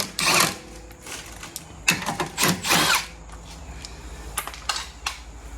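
Power tool, likely an impact gun, loosening 17 mm bolts during lower ball joint replacement on a Honda CR-V; several short loud bursts in quick succession, with metallic clinks and quieter shop noise in between.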